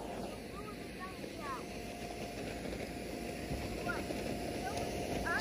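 An electric blower inflates an outdoor bouncy house with a slide in a yard, producing a steady, loud rushing air roar throughout, with faint chirps above it.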